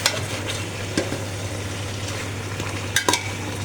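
Katla and rui fish heads frying in a pan for muri ghonto, stirred with a utensil, giving a loud continuous sizzle broken by a few sharp scraping knocks near the end.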